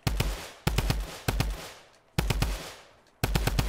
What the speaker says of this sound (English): Maybe I'll shoot. I'm just gonna shoot, honestly.